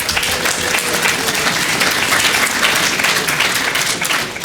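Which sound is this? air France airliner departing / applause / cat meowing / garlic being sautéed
applause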